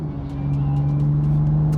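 A BMW M4 drives in M1 mode with stability control relaxed, its engine a steady near drone with a strong low tone building slightly in level, plus faint light clicks above, heard without talk.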